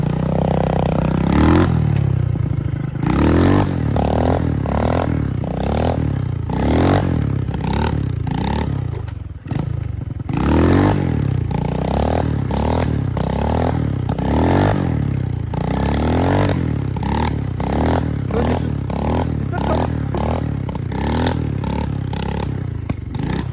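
A small 125cc four-stroke motorbike engine revs repeatedly in short bursts, rising and falling with a rough, buzzing tone, close and loud, with some clatter.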